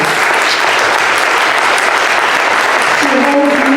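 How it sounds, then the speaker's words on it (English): Loud, continuous applause from an audience at a hall reception event, a thick steady roar of clapping that carries on throughout, with faint tonal sounds near the end. "please applaud"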